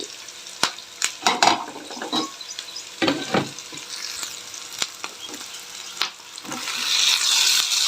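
Finely cut tomatoes sizzle in hot oil for tomato rice, with sharp scraping stirs of a spoon against the pan at irregular intervals and frying that swells toward the end.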